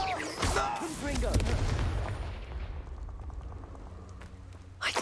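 A Confringo blasting spell explodes in Hogwarts Legacy amid loud, dense game combat, with broadband bursts and booming low rumble around the first couple of seconds, then sharp cracks later; game voices sound over the opening.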